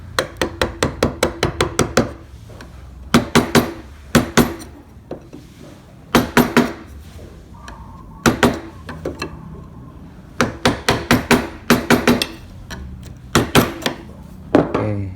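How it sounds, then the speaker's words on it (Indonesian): A wood chisel struck with a hammer while carving a hollow in a wooden piece, in fast bursts of sharp knocks separated by short pauses, close and loud. "kita bisa memahat dari sini pelan-pelan saja"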